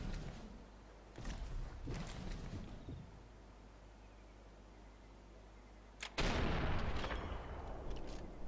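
Gunfire in the video game Sniper Elite 4 at a mansion: a few sharp shots early on, then a louder blast with a long ringing tail after a quiet stretch, heard alone without talk.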